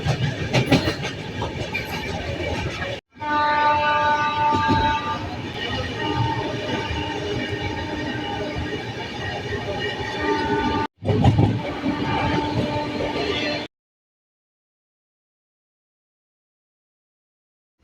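A passenger train rolls along the rails, its steady rumble and wheel clatter heard from inside a carriage, loud and continuous with a couple of brief breaks, with people talking faintly underneath before the sound drops out.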